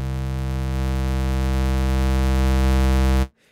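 Helm synthesizer tone with a sub oscillator mixed into the waveform: a loud, steady buzzy drone rich in harmonics, held unchanged for about three seconds before cutting off abruptly into silence.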